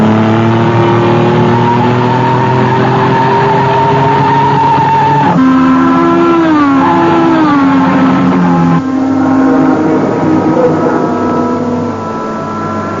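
Race car engine sound effect in a radio drama, loud and close: a sustained whine that drops sharply, then a series of stepped revs rising and falling through gear changes before fading slightly at the end.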